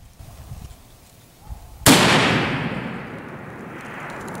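One loud .338 Lapua Magnum rifle shot aimed at 1,000 yards booms out of near silence, then a drawn-out echo slowly fades across the open range.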